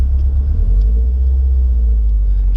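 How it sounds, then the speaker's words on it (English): A 1997 Subaru Legacy GT with an STI engine swap cruising, heard from inside as a loud, deep steady rumble of engine and road noise with no talking. "I'm driving my cousin's 97 Legacy GT right now."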